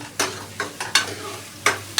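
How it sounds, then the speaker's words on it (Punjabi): A tadka for dal sizzles in a pan, with a soft hiss under a handful of sharp, irregular scraping strokes from a stirring spoon. "ਤੜਕਾ ਪਹਿਲਾ ਲਾਵਾਂਗਾ ਅੱਜ"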